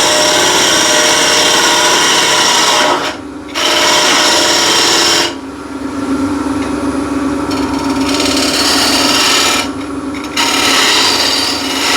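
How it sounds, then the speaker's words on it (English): Square end scraper cutting a recess into mahogany on a spinning lathe, a loud close rasping scrape in long passes with two brief pauses. "what I'm going to do is just turn a little recess with a square end scraper"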